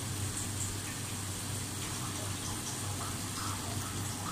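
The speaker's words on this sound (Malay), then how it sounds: "Dan kita masukkan sedikit air." A little water is poured into a dish of steamed sea bass with ginger and lime, a steady broadband rush of liquid running on continuously and alone, close and fairly loud.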